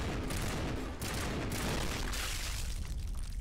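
A shotgun fires in the Mass Effect video game, dense repeated booming blasts back to back across a few seconds, loud and close with no talk.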